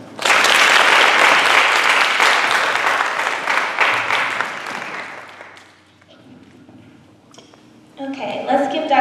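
Lecture audience applauding loudly and steadily after a hazing prevention talk, the clapping fading after about six seconds into a few scattered claps and a voice, then a brief renewed burst at the end.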